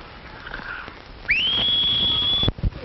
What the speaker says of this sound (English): I don't think you can whistle either.